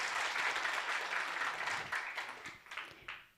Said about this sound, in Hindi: तो सबसे पहले अपने भाग्य के लिए एक बार तालियां बजाएंगे।